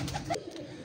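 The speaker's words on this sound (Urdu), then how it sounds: "ہیرا لال یہ کبوتر ہے" Heera Lal pigeons coo softly in a coop in Lahore, a few low murmuring coos against steady background noise.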